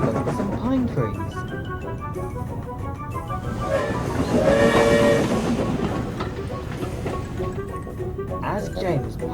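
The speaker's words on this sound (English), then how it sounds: "As James puffed along his route" An ERTL Thomas & Friends toy steam engine rolls along its track with a rhythmic clatter and puffing, rising to a louder passage midway, set against busy background sound.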